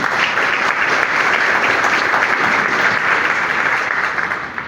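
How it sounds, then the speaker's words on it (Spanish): An audience at a master class claps in sustained, dense applause, loud and even for several seconds before tapering slightly at the end. "Un aplauso"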